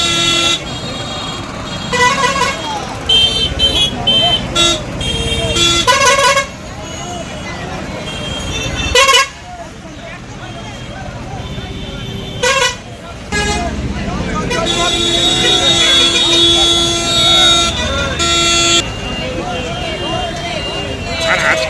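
A bus pulls out of a crowded vehicle stand into busy traffic, with repeated car horns honking near and far over a steady road rumble, while voices chatter throughout.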